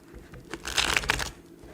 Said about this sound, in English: I'm going to shuffle 2 times on the side here